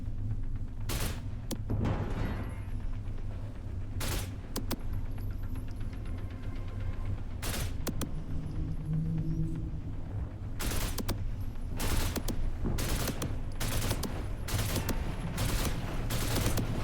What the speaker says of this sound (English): We're going to be using the tri rounds, which are short circuit rounds for electronics.